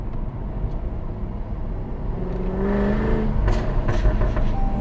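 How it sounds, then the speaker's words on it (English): A 2018 Jaguar F-Type R engine rumbles at idle, then revs up with a louder, rising exhaust growl and a few sharp pops toward the end. "Let's see what this exhaust sounds like."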